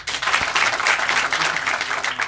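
A theatre audience at a Paris improv festival claps to score a scene, a brief dense wash of applause that holds steady and fairly loud throughout without cheering.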